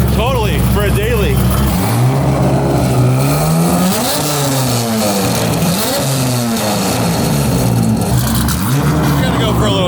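An LS3 V8 car with a custom exhaust drives off, its loud deep engine note climbing and dropping through several throttle swells, with voices talking over it.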